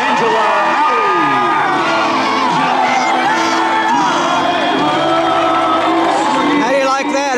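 Loud stadium crowd at a high school football game cheering and whooping for skydivers who just landed at Burley Stadium, a sustained roar of shouts and yells with an announcer's voice in the mix.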